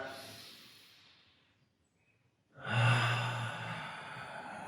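A deep, expansive breath taken during a runner's mobility stretch: a long exhale fades to near silence, then a strong, close inhalation rises and holds.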